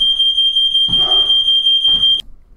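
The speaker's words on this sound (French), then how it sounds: "Le détecteur de fumée s'est déclenché." A home smoke detector going off after something burned in the kitchen, a loud, piercing continuous electronic tone that cuts off abruptly, with rustling movement nearby underneath.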